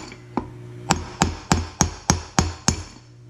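A hammer strikes a punch to drive out lawn chair wheel parts, eight sharp metallic blows landing in a fairly steady rhythm, close and distinct over a faint background hum.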